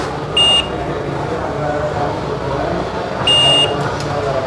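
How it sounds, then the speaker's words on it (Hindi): A multimeter gives two short, thin electronic beeps during a continuity test on capacitors of a mobile phone circuit board, each lasting about a quarter second, over steady background hiss and hum. "इन कैपेसिटर्स पर दोनों तरफ बीप आ रही थी"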